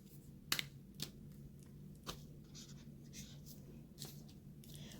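A pen writes on paper in a quiet room, giving faint scratchy strokes with a few sharper taps at irregular intervals, with no talking.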